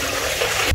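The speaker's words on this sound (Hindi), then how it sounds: "पानी चालू हो गया है।" Water gushing steadily from a newly installed tap, a close, continuous rushing flow that cuts off abruptly at the very end.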